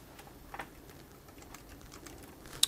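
Keystrokes on a computer keyboard typing into a serial port on a vintage Brother WP-1 setup, a short run of soft, fairly quiet clicks with one sharper tap near the end.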